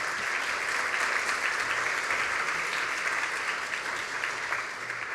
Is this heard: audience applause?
yes